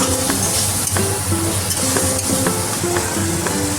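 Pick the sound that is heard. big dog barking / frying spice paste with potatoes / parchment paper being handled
frying spice paste with potatoes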